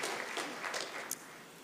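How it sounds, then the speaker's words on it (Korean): Church congregation applauding at a Friday worship service, a short burst of clapping that fades away quickly. "우리 하나님께 영광의 박수 올리겠습니다"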